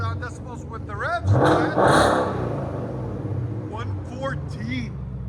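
A Ford Mustang GT with a 5.0L V8, custom H-pipe and Flowmaster Outlaws exhaust roars through a short, loud rev that rises and then settles into a rumbling idle. People talk nearby before and after the rev.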